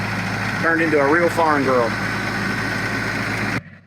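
A tractor engine runs in a steady, droning rumble at an off-grid cabin building site, loud and close, as someone briefly speaks over it before the sound cuts off abruptly.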